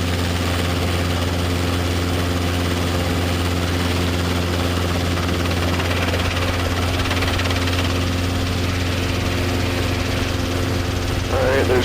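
A Robinson R22 helicopter lifts off in a normal training takeoff, its engine and rotor droning loud and steady from inside the cabin throughout, with a slight rise near the end.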